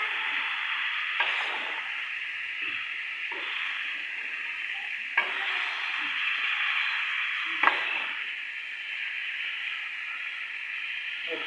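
Shalgam (turnip) being stirred with garam masala in a sizzling pan: a steady frying hiss with a few distinct scraping strokes of the spoon spaced several seconds apart, close and alone without talk.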